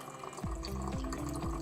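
Water drains and trickles out of soaked OrganiLock Premium animal bedding as it is shaken, a close, continuous splashing flow with repeated gurgling surges.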